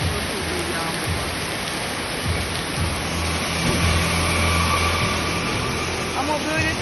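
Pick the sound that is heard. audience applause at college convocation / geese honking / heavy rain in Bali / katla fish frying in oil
heavy rain in Bali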